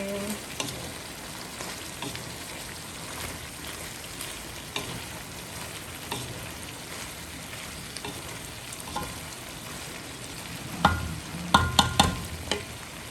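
Noodles stir-fried with broccoli and mixed vegetables sizzle steadily in a hot pan, with scraping stirs throughout and a louder burst of clatter and spatter near the end.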